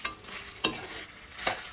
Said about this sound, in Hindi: ये मटन इसको डाल दिया, आलू डाल दिया और उसमें से फ्राई हो रहा है